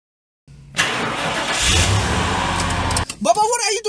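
A car engine cranks and starts with a loud surge, then runs steadily nearby before a voice begins speaking over it near the end.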